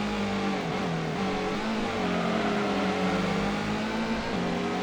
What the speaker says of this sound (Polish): Normalnie słyszę za mną ten odgłos, odgłos silnika jego.